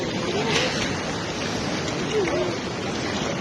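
Rushing floodwater rising on a North Sikkim mountain road during a landslide and heavy rain, a steady loud broadband roar of water with people talking over it.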